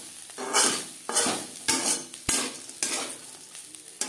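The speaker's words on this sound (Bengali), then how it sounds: "আলুর সাথে উচ্ছে বেশ ভালো করে মিক্সড করে দেব" A spoon stirs fried bitter gourd and potatoes in a pan, making repeated scraping strokes over a soft sizzle, close and steady, with no talk.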